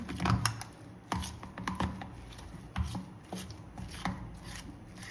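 Potato paratha filling being mixed by hand in a bowl, giving soft squishing and scraping sounds with irregular thumps, fairly close and steady with no talking.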